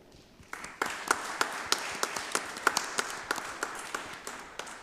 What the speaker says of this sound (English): I think that deserves again a big applause